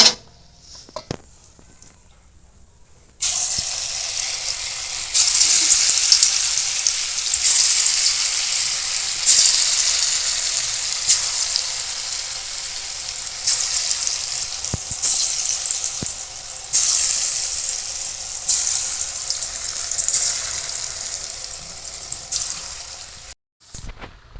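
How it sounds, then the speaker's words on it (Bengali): Steady sizzling of potato snacks deep frying in hot oil, a dense hiss that starts after a short quiet moment and continues with slight swells until the end. "আমি এবার বাকিগুলো সব এইভাবেই ভাজি"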